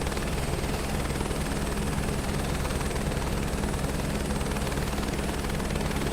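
A red and blue Airbus H125 helicopter flying in Microsoft Flight Simulator 2024, with a loud, unbroken rotor and turbine drone that stays steady and close throughout.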